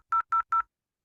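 Three crisp, identical dialing tones beep in quick even succession from an IP phone in Cisco Packet Tracer, clean and electronic, followed by silence.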